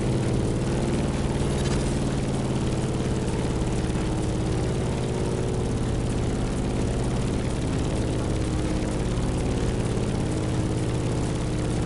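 A propeller airplane flying through turbulence in the racing game The Crew Motorfest, a loud, constant engine drone with a steady low hum, continuous and alone.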